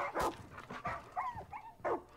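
Dog barking in the video game Far Cry 5, a series of sharp barks and yips with whimpering in between, close and fairly loud, no speech over it.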